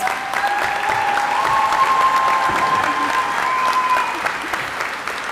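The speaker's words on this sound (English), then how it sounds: "Let's give her another round of applause." A commencement audience gives loud, sustained applause, a dense wash of many hands clapping that holds for several seconds and then fades slightly, with faint voices under it.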